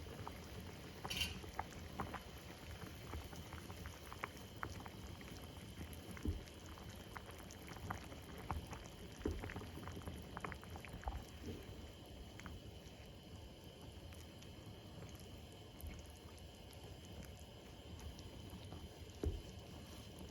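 Fish curry with tamarind and eggplant simmering in a pot, a faint, steady bubbling with scattered soft pops and no talk.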